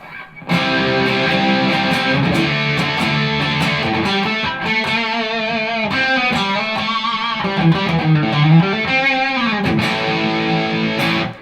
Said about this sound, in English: It's basis for any distortion, any lead tone stuff that I ever play.